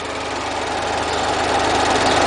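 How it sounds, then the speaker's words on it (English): A 2008 Pontiac Solstice GXP's 2-liter turbocharged Ecotec engine runs steadily at idle, a smooth continuous hum with a faint rumble, close and unchanging throughout. "That's the smooth and powerful sound of that 2-liter turbocharged"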